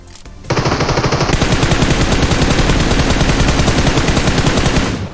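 Rapid automatic gunfire in a video game, a sustained burst of closely spaced loud shots lasting several seconds after a brief quieter lead-in.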